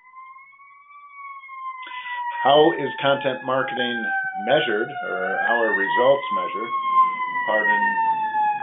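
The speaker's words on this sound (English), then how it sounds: "Pardon the siren there." An emergency vehicle siren from a busy highway beside an office wails steadily, rising and falling slowly and clearly audible from start to finish while someone talks over most of it.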